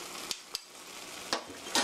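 A spoon stirs parmesan cheese into tomato sauce in a pan, giving soft scraping with a few sharp clinks of utensil against metal, close and quiet, with no voices.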